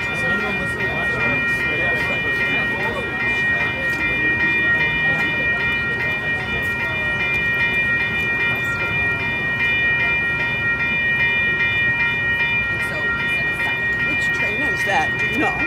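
A Metra commuter train rumbles steadily past Elmhurst station during the morning rush, a continuous close roar of rolling wagons with a sustained horn tone throughout.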